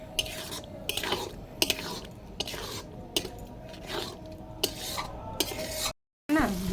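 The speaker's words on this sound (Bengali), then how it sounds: "এবার এটা ভালো করে এখন জোরে আঁচ দিয়ে এটা কষাবো।" Chicken curry being stirred hard in a pot over a high flame on a wood fire, with repeated scraping, clinking strokes every half second or so over a steady low sizzle, close and moderately loud.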